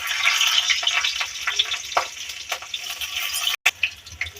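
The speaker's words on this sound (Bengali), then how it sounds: "এখন আমি এর মধ্যে দিয়ে দেবো কিছু কাঁচা লঙ্কা মাঝখান থেকে ছিঁড়ে।" Cumin seeds and torn green chillies frying in hot oil in a pan, a loud continuous sizzle with crackling pops and occasional stirring scrapes throughout.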